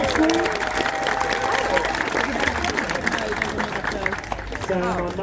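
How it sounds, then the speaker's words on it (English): Crowd at an outdoor food festival in Swindon claps and cheers in a sustained burst of applause, busy and fairly loud, while people talk over it. "Round of applause for Phil, everybody."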